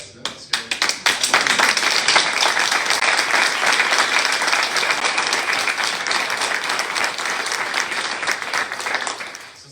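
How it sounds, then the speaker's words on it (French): An audience in a hall breaks into loud, sustained applause at the launch of a professional theatre plan in Québec, starting with a few scattered claps and swelling into a dense, even ovation that tapers slightly near the end. "les applaudissements, évidemment, je les partage"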